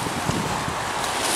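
Strong wind gusts outdoors make a steady, loud roar of buffeting across the whole clip, with no voices.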